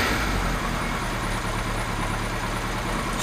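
A Kawasaki Z1 motorcycle engine idles steadily up close, a continuous low rumbling drone with no voices.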